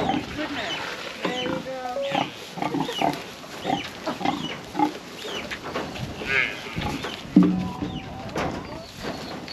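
A pig on an outback farmstay at Silverton grunts and snorts in repeated short bursts, close and fairly loud, while people talk over and between the sounds.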